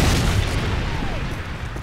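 A Predator missile explodes in Call of Duty: a loud, deep, rolling boom that rumbles on steadily and slowly fades across the moment.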